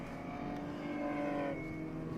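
Touring race cars of the BTC1, BTC2 and BTC3 classes roll two by two on a formation lap at the Pärnu Summer Race, engines droning and mingling steadily at a distance without any sharp revving.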